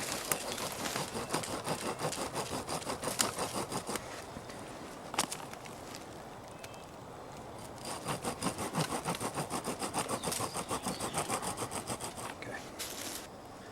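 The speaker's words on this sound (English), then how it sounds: "I'm cutting the notch in line with the bend of the stick" A bow saw cuts a notch into a bent wooden stick outdoors, giving rapid rhythmic rasping strokes in several bursts with short pauses between them and a few louder knocks.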